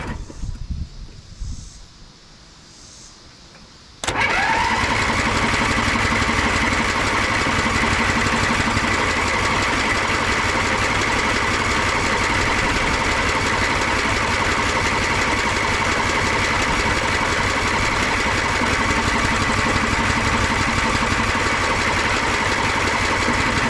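The engine of a Heald Heavy Hauler three-wheeler cranks and catches after a few seconds of quiet fumbling, then runs with a loud, steady, buzzing drone that holds for the rest of the clip.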